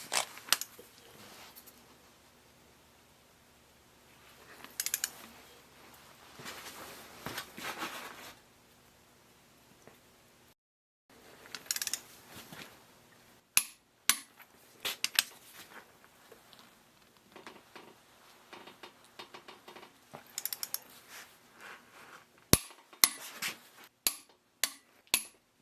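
A torque wrench tightens bolts on a John Deere 1010 engine during a rebuild. Sharp clicks and metallic taps come close and scattered, several in quick bursts near the end, between rustling handling noises in a quiet room.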